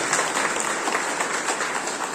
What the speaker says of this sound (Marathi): त्या सर्वांचं आपण जे आहे टाळ्या वाजवून अभिनंदन केलं पाहिजे